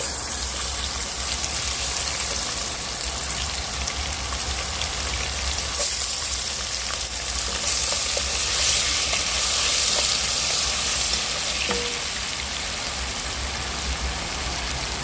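Onion goes into a pan with pork cracklings for buckwheat cooked outdoors, filling the air with a steady, loud, dense sizzle and crackle of frying fat that holds without a break throughout.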